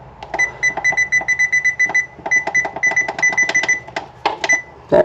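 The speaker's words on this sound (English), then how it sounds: "Set our timer." Kitchen timer being set while baking pumpkin scones: a rapid run of bright electronic beeps in quick bursts, close and loud, with button presses between them and a short pause midway.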